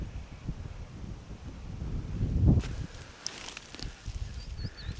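Gusty wind on a hilltop heath along a hike at Kahler Asten buffets the microphone in low rumbling surges, swelling to a loud gust midway, with faint rustling and a distant bird chirp.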